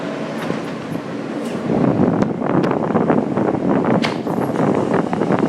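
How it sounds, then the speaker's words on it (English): A Brooklyn-bound F local train on the New York subway runs with a steady, loud rumble and rattle, swelling louder partway through, with rushing wind-like noise and metallic clatter throughout. "This is a Brooklyn-bound F local train."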